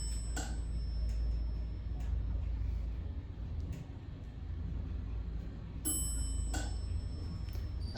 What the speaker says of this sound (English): Classic Otis, staged acceleration.